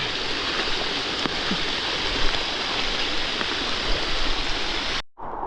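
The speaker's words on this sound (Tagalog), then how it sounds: "papunta na sa talukan yung tubig" Water rushes steadily into a rice paddy in the countryside, a dense, continuous splashing flow that holds even for about five seconds before a brief cut.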